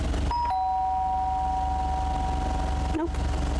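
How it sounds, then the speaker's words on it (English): A doorbell rung by a postal worker in a small-town simulator video game chimes twice, clear and steady, over a constant low background hum, then a brief click near the end. "Ring doorbell."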